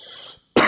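A single sharp cough from someone feeling unwell during an online racing league broadcast, sudden and close after a brief moment of quiet.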